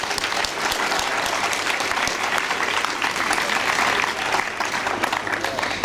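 An outdoor crowd at a vintage car rally and fire brigade event gives sustained, dense applause, steady clapping that continues at an even level for about six seconds.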